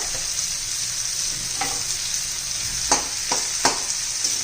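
Asafoetida hits hot ghee in a pan while a mixed vegetable dish of cluster beans, potato and moth beans cooks, giving a constant close frying hiss with a few sharp spoon taps and scrapes; no voices.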